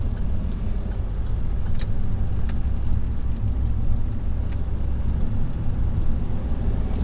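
An Audi A2 1.4 TDI with a remapped engine pulls away from a roundabout in third gear, its diesel drone steady and close inside the cabin for the whole stretch, with road rumble and no talk.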